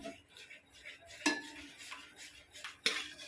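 Pan clatter in a home kitchen while chillies, oil and onion go into a pan for noodles: soft scraping with two sharp metallic clanks of utensil on metal, close and fairly quiet, no talking.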